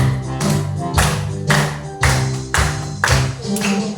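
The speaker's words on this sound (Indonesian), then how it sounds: "Boleh sambil tepuk tangan." Group clapping along to a patriotic Indonesian independence song in a classroom training session, steady rhythmic claps on each beat over sung melody with a low steady tone beneath.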